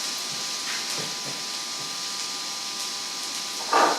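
Garlic sautéing in a pan for sautéed Brussels sprouts, a steady soft sizzle and hiss throughout with a brief louder burst of spatter near the end.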